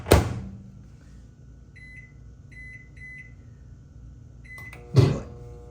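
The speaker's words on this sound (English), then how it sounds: "that was the plate that popped there, not the egg" A plate pops with a sharp crack inside a microwave oven during an egg-heating test, following an earlier loud bang; between the two hits, a few short electronic beeps sound over the oven's steady low hum.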